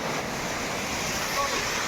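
Water rushes steadily at Banderu Kona waterfall, a dense continuous roar filling the whole moment at an even level, heard close without any break.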